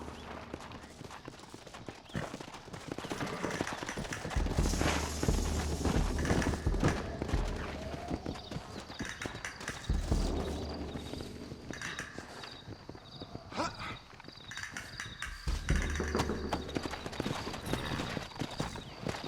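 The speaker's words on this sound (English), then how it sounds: "Looks like Carlos left us some horses." Horses in Red Dead Redemption clip-clop and gallop in rapid hoofbeat rhythms, fairly close, with bursts of heavier hoof thuds, amid game ambience; a neigh is not clearly evident.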